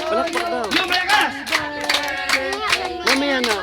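Rhythmic clapping at a child's seventh birthday party, hands beating along under loud group singing of a birthday song, close and lively.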